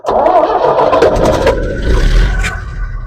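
A heavy machinery engine cranks and catches, then revs up loudly a couple of times before settling into a rumbling idle, close by.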